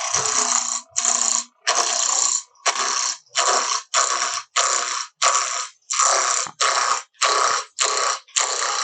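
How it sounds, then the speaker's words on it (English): A large roughing gouge works a spinning wood blank on a lathe for a mortar and pestle. It makes loud, close bursts of chattering scrape, about a dozen evenly spaced passes, each separated by a brief gap. "I should use my large roughing gouge for this one."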